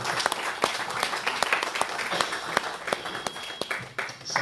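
A congregation at a wedding celebration service applauds to acclaim the Lord. The clapping is dense and continuous, loud and close, with scattered voices underneath.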